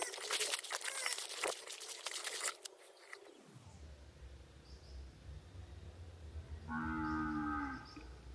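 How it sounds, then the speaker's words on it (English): A cow moos loudly nearby on a rural site, with drawn-out calls near the end that follow rustling and a brief rumble. "There's a cow that's making a lot of noise all day long"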